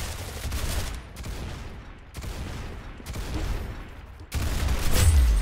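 Gunfire in a video game shooter comes as loud, dense bursts of rapid shots in several waves, ending in a heavier, booming volley.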